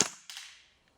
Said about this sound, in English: Try that again, burst fire.